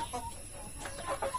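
Chickens in a coop making a few soft, quiet clucks in quick succession, faint and close, with no talking.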